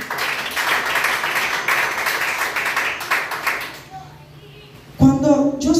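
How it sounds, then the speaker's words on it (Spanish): A church congregation claps in a dense, sustained burst for nearly four seconds before it fades, then a single voice begins speaking loudly. "Den un aplauso al Señor."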